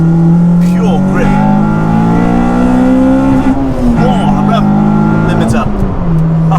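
A track-focused Honda Civic Type-R EP3 engine screams loudly at high revs on circuit, bouncing off the rev limiter with sharp pitch drops, while someone talks over it inside the car.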